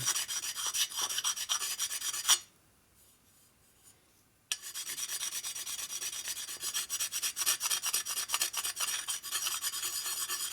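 A sharpening stone scrapes harshly across metal of a Harley Shovelhead big-bore engine in steady rhythmic strokes, stopping briefly for a quiet pause before resuming.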